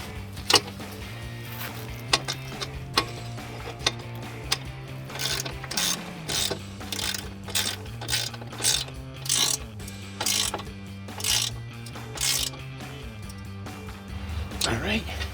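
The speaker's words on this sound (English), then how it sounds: "Gonna tighten down my bracket, my bars, my actual running boards to the brackets." A ratchet tightens step bar brackets on a RAM 1500, giving repeated bursts of fast clicking with short pauses between strokes, over a low steady hum.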